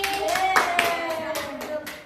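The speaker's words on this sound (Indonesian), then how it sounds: "tepuk tangan untuk Mbak Leli" Classroom clapping for a student presenter in a micro-teaching session, a short burst of hands clapping close by with distinct individual claps, while a voice speaks over it.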